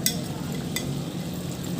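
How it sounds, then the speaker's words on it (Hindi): A spoon stirs chicken karahi in a cooking pan, a soft scrape or two heard over a continuous loud sizzle, close by and without talk. "और इसे चमचे की मदद से अच्छी तरह मिक्स कर दूँगी मैं।"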